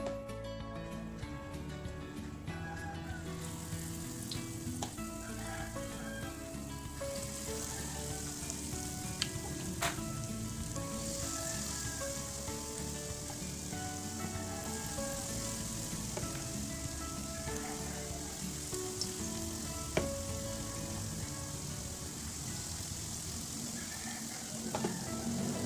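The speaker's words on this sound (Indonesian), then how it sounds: "Minyak sudah panas dan sekarang akan saya mulai goreng." Zucchini fritters sizzle steadily in hot cooking oil, a dense close crackle and spatter that holds for the whole stretch with faint stirring clinks and no talk.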